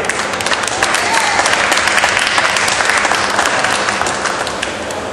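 Loud, close applause from a tour group thanking glassblowers after a demonstration in a Murano glass workshop, a dense steady patter of many hands that holds evenly throughout, with some voices mixed in.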